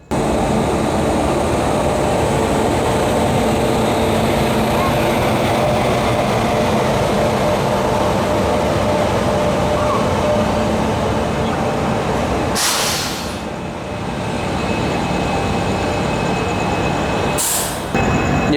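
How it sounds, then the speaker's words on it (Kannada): A train arrives at a station on the Mangaluru to Bengaluru line, a loud continuous rumble and rolling hum close by, with two brief hissing bursts, likely air brakes, and some faint voices. "ಇಲ್ಲೊಂದು ಯಾವುದೋ ಟ್ರೈನ್ ಎಂಟ್ರ್ ಆಯ್ತು."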